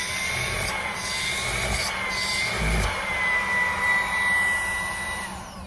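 A Levoit cordless vacuum cleaner running steadily nearby, a continuous motor whine with a constant airflow hiss and slight shifts in tone.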